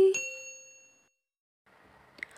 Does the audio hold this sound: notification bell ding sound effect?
yes